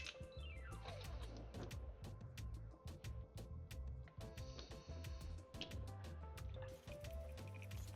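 Water is poured and dripped into a taco sauce mix for shrimp and kimchi tacos, with close, continuous trickling and squishy liquid sounds and rapid drips throughout.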